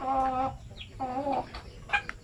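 Native chickens raised for meat cluck in a few short, close bursts over about two seconds, with no one talking.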